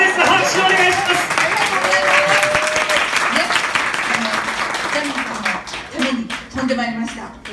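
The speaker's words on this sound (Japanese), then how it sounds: "拍手お願いします" Applause from an audience at a small reunion gathering in a Shinsaibashi, Osaka bar, steady dense clapping throughout with voices talking over it and a few calls near the end.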